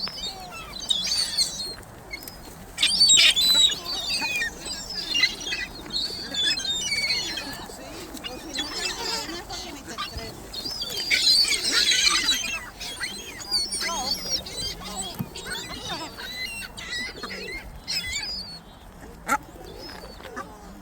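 A flock of birds, including ducks and pigeons, being fed in Canarsie Park, with a busy mix of quacks, coos and chirps rising and falling in close bursts and faint talk in the background.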